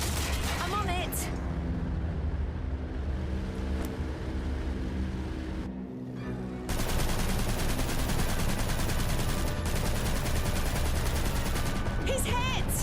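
Aircraft gunners in the game Aviators fire dense, continuous machine-gun bursts, loud and close, with a brief lull before the fire resumes heavier, under urgent voices talking.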